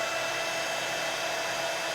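A heat tool blows steadily to melt embossing powder on a handmade Christmas card, a continuous even whooshing hiss with a faint tonal whine, close and alone.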